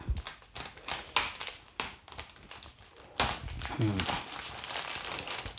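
A double-layer package holding a set of vintage comic books is cut open and handled, with close plastic crinkling, rustling and quick tapping clicks that come in bursts, then get louder and denser partway through.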